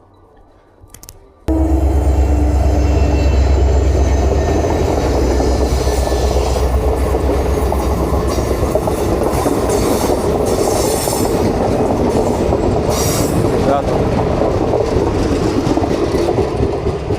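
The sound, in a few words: trains passing near Denali National Park, Alaska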